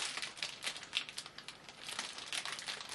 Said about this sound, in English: Bit of a pain trying to get everything out of this plastic